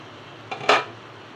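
A metal lid set onto a cooking pot while a vegetable curry cooks, giving a light clink followed by a louder clatter a moment later, close and with no one talking.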